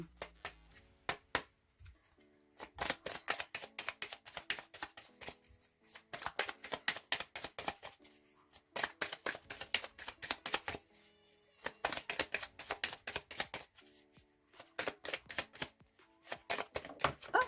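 Tarot cards are shuffled by hand in rapid, close bursts of crisp riffling and flicking, repeated in several runs with brief pauses between, and no voice over them.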